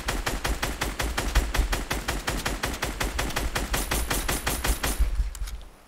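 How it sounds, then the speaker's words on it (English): Sustained automatic gunfire in the video game Fortnite: a rapid, even stream of loud shots rattling for over five seconds before it abruptly stops, leaving a faint tail. "Keep shooting him."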